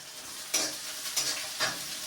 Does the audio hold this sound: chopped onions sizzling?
yes